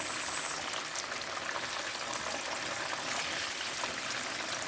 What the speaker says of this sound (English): I'm done frying the chicken